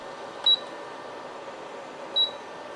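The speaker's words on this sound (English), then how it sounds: "Let's go ahead and bump that up all the way up to max." An induction cooktop gives two short, faint electronic beeps, roughly 1.7 seconds apart, as its power is raised to maximum over a quiet background hum.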